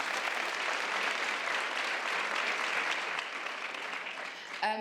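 Audience applause after a talk, a broad wash of many hands clapping that holds steady and moderately loud, then thins toward the end.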